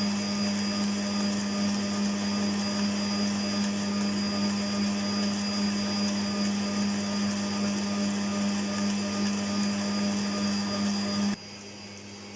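An electric whisk mixing thick chocolate brownie batter, a steady loud motor whir with a strong constant hum, running evenly for about eleven seconds before cutting out to quieter background.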